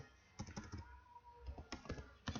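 Hands type a SQL query on a computer keyboard, producing quiet, irregular clusters of key clicks close by with short pauses between bursts.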